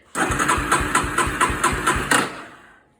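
A Yamaha Warrior ATV engine cranks rapidly without catching, a steady loud rhythmic chugging of the starter lasting about two seconds before cutting off, with no voices over it.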